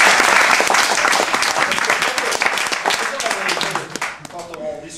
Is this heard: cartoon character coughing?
no